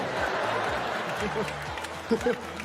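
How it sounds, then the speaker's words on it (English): Audience at a Chris Rock stand-up comedy special breaking into applause and cheers, a dense, steady wash of clapping with a few brief laughs and voices rising near the end. "The crowd went wild"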